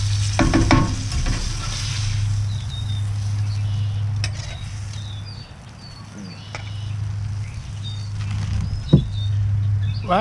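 Blackened redfish fillets searing in a heavily seasoned hot pan: a loud, steady close sizzle with a few sharp clicks and scrapes of a spatula, no talking.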